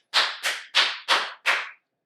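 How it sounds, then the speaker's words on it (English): Five slow, evenly spaced hand claps sound close and clear in a quiet podcast room, then stop. "So round of applause"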